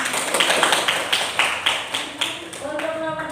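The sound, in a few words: applause for a classroom presentation group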